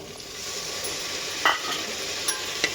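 Fresh green peas and potato frying in oil in a pan for matar bhaji, a soft continuous sizzle with a couple of brief clicks from the spoon, fairly quiet and without talk.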